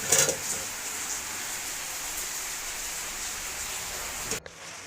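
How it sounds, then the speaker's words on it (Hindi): Heavy rain pours down steadily in a dense, even wash of hiss, loud and close, before it cuts off abruptly near the end with no voices heard. "तो यहाँ देखिए कितनी तेज़ बारिश आ रही है"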